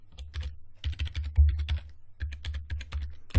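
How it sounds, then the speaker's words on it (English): Password typed on a computer keyboard in quick bursts of close, crisp keystrokes, broken by short pauses. "I'm going to type in my password."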